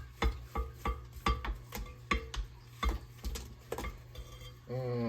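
A utensil scrapes and knocks around a mixing bowl of cookie dough: a quick, irregular series of clicks and scrapes, close and fairly quiet, ending with a short tonal squeak.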